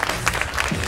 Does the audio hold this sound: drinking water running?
no